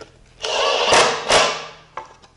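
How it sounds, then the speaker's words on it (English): Countersunk Phillips screws, number seven by three-quarter inch, being driven into a wooden fixture to attach a handle: two short whirring bursts from the driver close by, then a brief, fainter tap. "here I'll use number seven by three quarter inch countersunk Phillips screws to hold the handle to the fixture"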